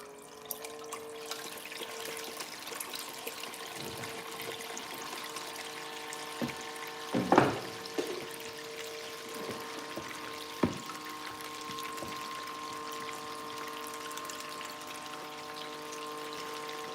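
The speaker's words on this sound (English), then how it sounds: "Get my cleanup sluice rolling here." Water flows steadily through a gold cleanup sluice outdoors, a soft continuous trickle and rush with a few small splashes and knocks, no speech.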